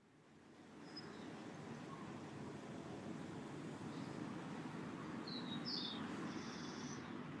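Small birds chirp in a few brief, faint, high tweets over a steady low background rumble at an outdoor gathering in Arica, with no voices.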